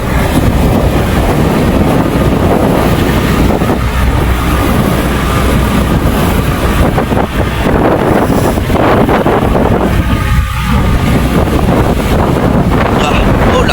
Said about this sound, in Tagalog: Lalong lumalakas ang hangin.